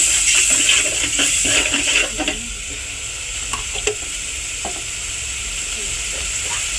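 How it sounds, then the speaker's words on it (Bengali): Ginger garlic paste hisses loudly in hot oil in a pan for spiced lentils, with brisk stirring scrapes in the first couple of seconds, then a steady, close sizzle with occasional light clicks. "দিয়ে দিচ্ছি আদা রসুন পেস্ট, আদা রসুন বাটা 1 চা চামচের পরিমাণ।"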